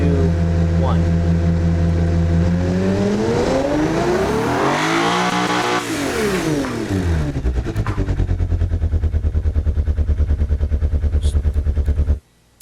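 A simulated engine in the Automation game roars on a dyno test, revving up in a sweeping rise and fall of pitch, then settling into a loud pulsing idle before cutting off.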